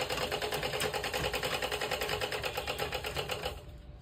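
A sewing machine stitches fabric in a rapid, steady mechanical rattle, close and continuous for about three and a half seconds before stopping and leaving a faint hum.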